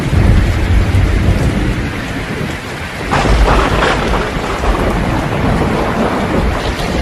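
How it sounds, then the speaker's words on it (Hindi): Heavy rain pours down steadily in a forest storm, a dense roaring wash with deep thunder rumbling low underneath and swelling midway through, with no voices. "फिर अचानक तेज बारिश आ जाता है"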